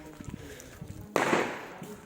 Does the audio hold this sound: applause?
no